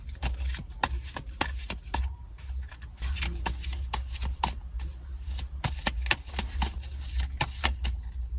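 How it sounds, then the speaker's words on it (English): Tarot cards are shuffled in a quick, close riffling patter, with crisp repeated card slaps and flutters running steadily throughout with no talking. "Okay, I'm gonna shuffle."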